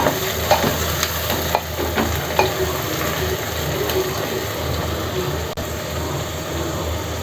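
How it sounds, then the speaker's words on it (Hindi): Chopped onions sizzling and frying in a pan for a desi-style chicken gravy, with a steady close hiss and occasional scraping stir strokes over the four to seven seconds. "अब इसको अच्छे से ब्राउन होने तक भूनेंगे।"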